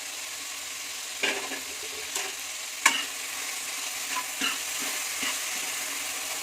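Shelled beans and masala frying over a low flame in a pan for a sambar: a soft, even sizzle with scattered spatula taps and scrapes spaced a second or so apart, no one speaking.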